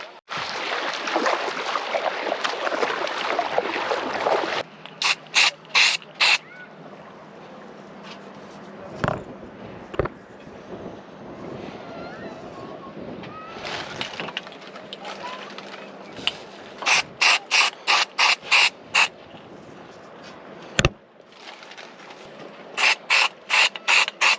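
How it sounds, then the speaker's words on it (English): An anchor windlass hauls up the anchor on a sailboat: mechanical clanking and rapid ratcheting bursts repeat in clusters amid a low motor whir and splashy noise, with occasional quiet voices. "Let's pull up anchor and go."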